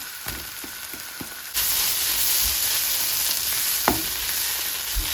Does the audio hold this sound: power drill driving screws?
no